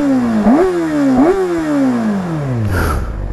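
Kawasaki Ninja ZX-6R motorcycle engine on its stock exhaust revs up twice in quick rising bursts, then winds down smoothly through a long falling pitch, close and loud with no talking.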